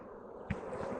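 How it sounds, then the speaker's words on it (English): Honey bees buzz around an opened hive in a continuous close hum, with a brief soft knock partway through. "a lot of bees in here"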